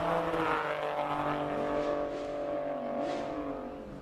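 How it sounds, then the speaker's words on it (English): A Toyota GR Yaris with a three-cylinder turbo engine climbs a hill during a hill-climb racing event in Cape Town, its engine note droning steadily at a distance and rising and falling through the gears. "Watching the 3-cylinder turbo GR Yaris up the hill."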